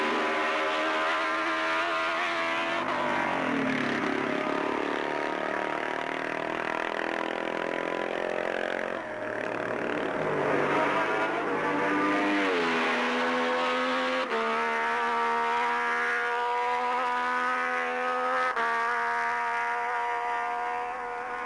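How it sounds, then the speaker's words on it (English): Classic racing motorcycles at the 1978 Isle of Man TT on the Glen Crutchery Road, loud high-revving engines passing in sweeping rising and falling whines, several bikes in succession. "Just before the start line on the Glen Crutchery Road on lap 4, we find a back marker sandwiched between Hailwood and Agostini"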